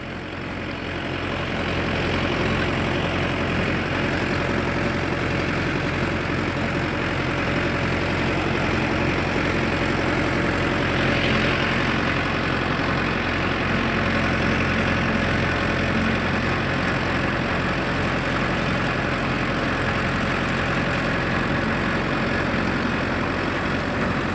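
A Mahindra Yuvo Tech Plus 4WD tractor runs with a rotavator mulching a cassava field, its engine a loud, steady, unbroken drone with a rough mechanical hum that holds throughout.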